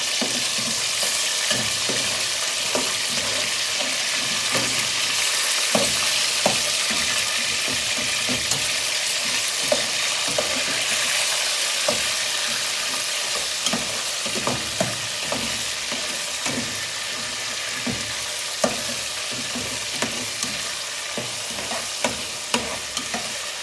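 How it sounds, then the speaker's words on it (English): Food for a chicken mince stew sizzles over high heat in a pot while a utensil stirs and scrapes repeatedly, a close, continuous frying hiss with regular clinks and no talking. "So I'll now fry it for some time."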